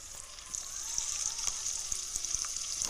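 Kattu pongali being stirred in a pan, a soft continuous sizzle with faint scraping taps of the spoon at intervals, fairly quiet and close with no talk.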